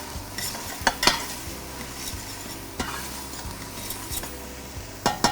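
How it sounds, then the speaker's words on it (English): Onions cooking in a pan for white chicken chili give a soft, steady sizzle, with a few sharp clinks and scrapes of a utensil stirring against the pan, alone with no talk. "So we're going to cook that until those onions start to become translucent."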